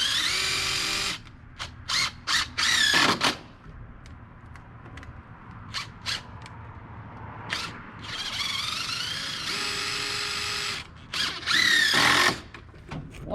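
A power drill drives screws into wood in short whirring bursts, its motor whining up and down between pauses, with one longer run near the end and brief ratcheting clicks in between.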